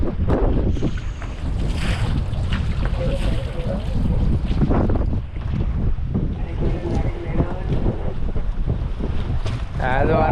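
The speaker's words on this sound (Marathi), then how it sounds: "आज वारा जबरदस्त होता" Strong wind buffeting the microphone out on the deep sea off Mumbai aboard a prawn fishing boat, with waves and boat noise, steady and loud throughout, a few voices briefly audible.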